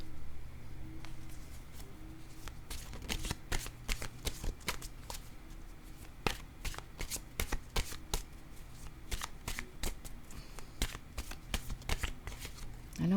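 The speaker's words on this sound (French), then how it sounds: "Bon, je vais piger une carte, un message de l'univers." Oracle cards being shuffled by hand, a dense run of crisp riffling clicks and slaps in an uneven rhythm, close and fairly quiet with no talking.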